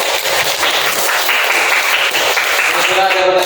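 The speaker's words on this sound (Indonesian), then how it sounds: "Oke, beri aplaus pada kelompok 3" A classroom group receives applause, a dense steady wash of many hands clapping together that fills the whole moment at close range, with no voices rising above it.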